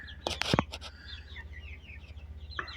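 Young chickens, only a few weeks old, cluck in a coop with a few sharp close calls early on, then softer scattered clucks and chirps continuing at low volume.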